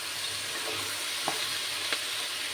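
Vegetables for a vegetable biryani cook in a pan with a constant close sizzle, broken by a couple of brief scraping stirs.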